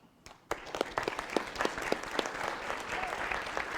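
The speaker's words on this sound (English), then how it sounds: "Now clap." A dinner-theater audience bursts into applause after a short quiet moment, steady dense clapping from many hands in a room with sharper individual claps standing out, a voice heard briefly beneath it.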